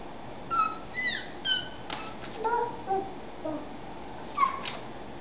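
A house cat meows in a short series of high, thin calls close by in a quiet home, with a couple more faint mews near the end.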